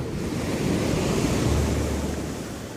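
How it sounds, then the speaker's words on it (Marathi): Sea waves surge in a steady, loud, continuous roar, swelling slightly in the middle with no voices. "समुद्र असा फोपाला होता"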